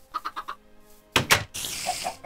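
Chickens in the Minecraft video game cluck in a few short, quiet bursts, followed by other brief game sounds.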